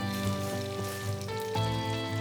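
Fresh spinach and pasta fry together in a pan, giving a steady, close sizzle that runs the whole time beneath a sustained tonal backdrop.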